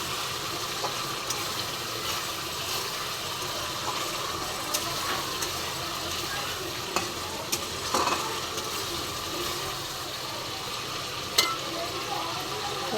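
Prawns cooking in oil in a pan for a mustard prawn curry, with a faint, even sizzle and a few soft utensil clicks over a steady low background.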